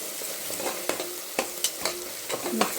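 Salt is stirred into tomato bath cooking in a pan: a spoon scrapes in quick, irregular strokes, with a soft sizzle under the stirring.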